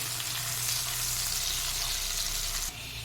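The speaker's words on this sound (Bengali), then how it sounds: "এইবার পেঁয়াজটাকে আমি হালকা লাইট ব্রাউন করে ফ্রাই করে নেব।" Chopped onion frying in a pan, cooked toward light brown, gives a close, continuous sizzle and hiss, even and unbroken, with a low steady hum beneath and a slight drop in level near the end; no one speaks.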